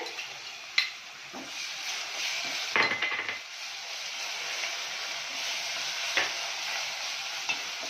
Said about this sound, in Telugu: దీంట్లో మనం ఇప్పుడు ఏం చేద్దామంటే, 1 టేబుల్ స్పూన్ అంతా అల్లం వెల్లిగడ్డ పేస్ట్